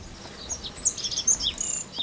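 Rock bunting singing in the Aboboreira mountain highlands of Portugal, a short burst of thin high chirps and twitters, moderately close, over a soft hiss of background noise with faint insect-like buzzing.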